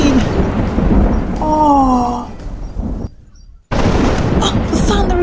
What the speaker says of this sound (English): Mommy, please, the thunder is booming.